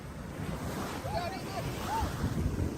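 Ocean waves washing up onto a sandy beach where anglers are fishing, a steady wash of surf and wind buffeting the microphone, with a few faint voices over the roar.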